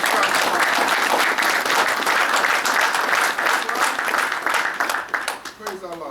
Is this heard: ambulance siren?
no